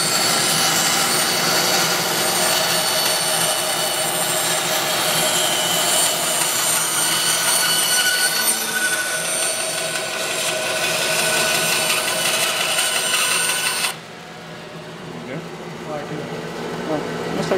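A new band saw with a 1/2 inch blade cuts a curve in wood, a loud, steady, high whining roar that holds for about fourteen seconds, then drops sharply to a quieter hum as the cut ends.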